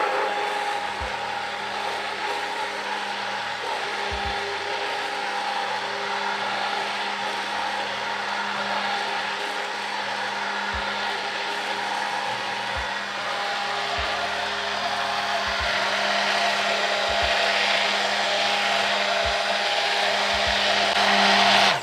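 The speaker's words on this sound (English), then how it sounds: "we're going to blend until we get to trace" Electric blender steadily whirring as a soap mixture is blended to trace in a bowl, a continuous motor drone with faint intermittent low knocks, no talking.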